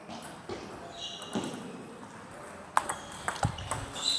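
Table tennis balls are struck in a rally, giving sharp, light clicks and taps scattered over a few seconds against a background of room noise.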